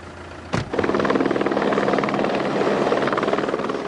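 A helicopter passes close overhead, its rotor beating in a steady rapid chop that rises suddenly after a sharp thud and stays loud and continuous, with no voices.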